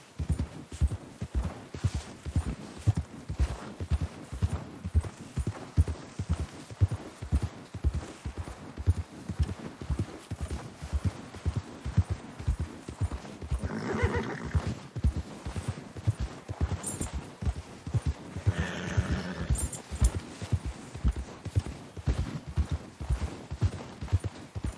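Horse hooves clip-clop at a steady walking rhythm through snow in Red Dead Redemption 2, with a couple of brief whinnies or snorts around the middle, close and constant throughout.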